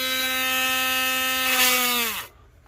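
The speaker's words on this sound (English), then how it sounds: "I still can't find a collet to fit my better drill, so I'm using just this one, which does not like this process" A small rotary drill that struggles with the job whines steadily at high pitch while boring through beads for a handmade pen, then winds down and stops; close and loud, with no voices.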